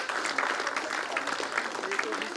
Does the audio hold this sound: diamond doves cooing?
no